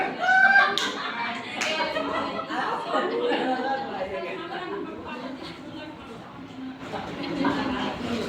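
An audience at a children's magic show breaks into clapping, mixed with chatter and a talking voice, with louder bursts of applause at the start and near the end.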